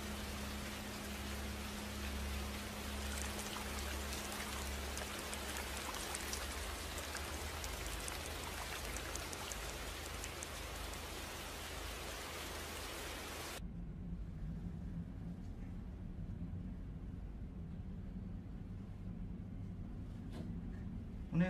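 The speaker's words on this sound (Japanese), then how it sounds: "この雨やむかな。" Steady, dense rain pours down outdoors, filling the scene with a continuous hiss and patter before it abruptly drops to a quieter, duller wash of rainfall with a low hum beneath. No distinct thunderclap stands out.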